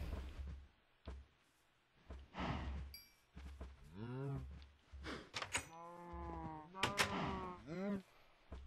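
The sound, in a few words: sheep bleating in the video game Minecraft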